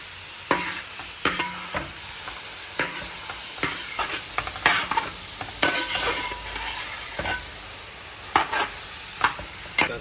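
Chicken and onion are stirred together in a hot pan for a parotta side dish. Irregular spatula scrapes and clacks sound over a soft, steady sizzle, with no talking.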